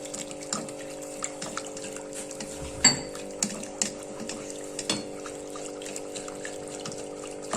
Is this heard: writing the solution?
no